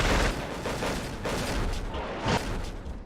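Aircraft guns in a flight game fire a dense, continuous rattle of shots, loud and close, with bursts swelling slightly over a few seconds.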